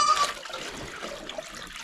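Water runs steadily into a goat trough on a Missouri Boer goat farm, a soft continuous trickle and splash heard close by for the whole stretch, alone without talk.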